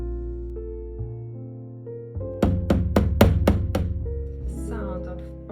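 Taut dried watercolor canvas tapped about five times in a quick, even run, each hollow drum-like thunk sharp and close, rising over a steady low background hum.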